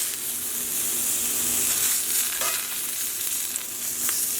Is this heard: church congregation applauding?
no